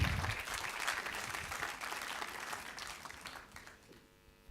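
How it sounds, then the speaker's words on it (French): An audience at an awards ceremony claps in a full, steady burst that gradually thins and fades toward the end, with a faint hum underneath. "on vous applaudit"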